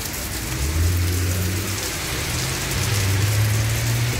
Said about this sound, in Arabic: مطر مطر قوي